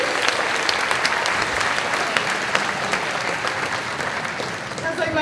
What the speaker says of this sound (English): Can we give Amy a round of applause